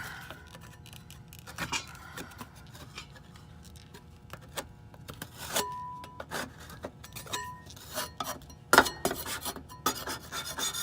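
Material is scraped off the frame of a Jeep Cherokee XJ with a hand tool. Sharp scratchy strokes and clinks come at an irregular pace, fairly quiet and close.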